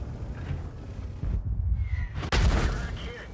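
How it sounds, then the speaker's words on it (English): An artillery shell strikes a tank in World of Tanks, a sharp broadband crack and boom landing near the end among ongoing low rumbling battle noise, with a second smaller impact earlier. "382 with stun from artillery"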